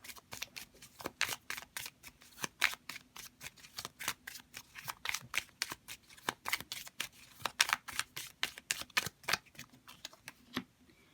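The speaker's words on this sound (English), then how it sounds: "I'm going to grab another playing card." Playing cards are handled and shuffled close up, giving a run of crisp, rapid flicks and riffles in uneven bursts. The sound is fairly quiet, and no one speaks.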